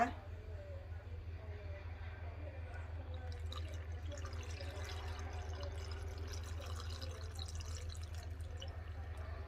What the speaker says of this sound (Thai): เทน้ำปลาลงให้เต็มเลยนะคะ